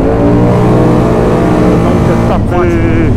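A Polaris Sportsman XP1000 S ATV, a 2025 model, revs loudly up close, its exhaust giving a sustained deep droning roar that rises in pitch near the end.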